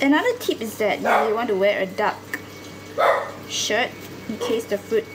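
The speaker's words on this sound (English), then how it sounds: "Sorry, that was my dog." A dog barks in the background several times, short sharp yaps between and under a person talking nearby in a kitchen.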